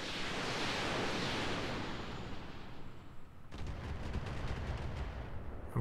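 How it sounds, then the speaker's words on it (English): Turrets firing in the RogueTech mod of the BattleTech video game, a heavy roaring barrage that fades, then a sudden cut into a dense rapid crackle of repeated shots, steady and loud throughout. "We're gonna wait for those turrets to fire."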